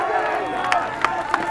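A crowd at a men's college ultimate frisbee national semifinal between Colorado and Stanford cheers a defensive play, a loud sustained roar at some distance with a few sharp claps and whoops, under a commentator talking.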